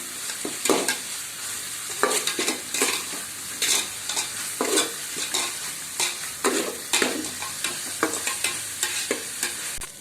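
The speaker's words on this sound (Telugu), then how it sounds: "ఇది పచ్చివాసన పోయే వరకు కొంచెం ఫ్రై చేద్దాం." Ginger garlic paste frying in a pan while a spoon stirs it in repeated scraping strokes over a steady sizzle, close and fairly loud, during cooking for a vegetable biryani, with no talking.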